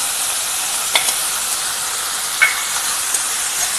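Pepper chicken sizzles in a pan as rock salt is stirred in, giving a steady loud frying hiss with a few brief scrapes of the spoon against the pan.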